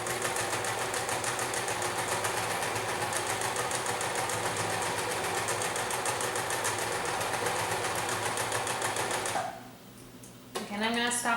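A sewing machine runs a long straight seam on a cotton face mask, a fast steady mechanical rattle close by that stops near the end, followed by brief handling sounds.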